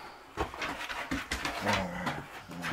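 Dogs panting rapidly with a few soft whimpers, fairly close, indoors in an off-grid solar house workshop, continuous breathy rhythm without speech.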